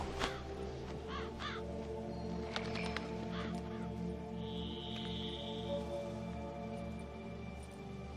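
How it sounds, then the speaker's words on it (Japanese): Several crows caw in the video game The Witcher 3, a string of raspy calls near the start and a few more toward the middle, set over a steady low ambient background. "カラスか。"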